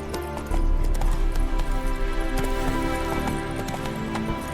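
Roach the horse gallops in The Witcher 3, hooves pounding in a fast, steady rhythm close by after a brief quieter start, with a little ambient clatter behind.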